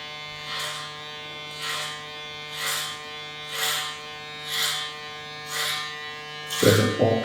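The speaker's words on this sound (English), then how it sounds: "I'm going to ascend the clipper over comb" Electric hair clipper cutting hair clipper-over-comb during a textured fringe and low taper fade haircut, a steady close buzz rising in regular passes about once per second, with a louder burst at the end.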